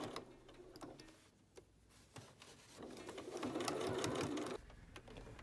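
A sewing machine stitches along a jacket edge one centimetre in, its motor whirring quietly in uneven bursts that speed up and then stop.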